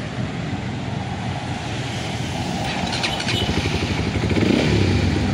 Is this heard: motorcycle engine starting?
yes